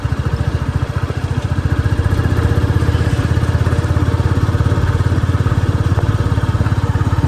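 A motorcycle loaded with luggage on a mountain road in Mechuka, Arunachal Pradesh, runs with a loud, close, steady thumping engine note that rises slightly as the bike sets off.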